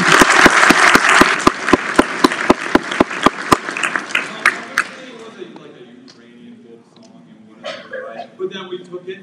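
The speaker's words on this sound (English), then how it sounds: "Let's give her another round of applause." An audience at a holiday music concert claps loudly, the applause thinning into scattered claps and fading into quiet room murmur.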